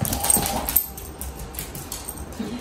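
A dog whimpers and whines faintly indoors, soft high cries at the start fading into quieter background noise, with no one speaking.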